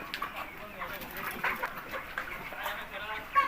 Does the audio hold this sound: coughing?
no